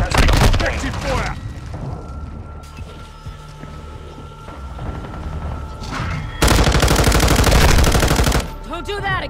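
Automatic gunfire in a Call of Duty firefight: a loud rapid burst opens, then distant sporadic shots and mechanical noise, before a long, sustained stretch of heavy machine-gun fire, with game voices speaking between bursts.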